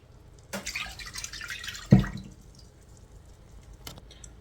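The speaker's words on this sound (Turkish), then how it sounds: "Bir su bardağı da normal su koyacağım." A glass of water is poured into a pan of orange juice for a fruit cake glaze, heard as brief splashing bursts with a sharp clink midway and quiet gaps between.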